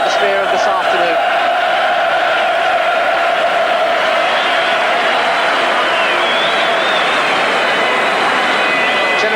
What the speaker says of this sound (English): Generous applause there from the crowd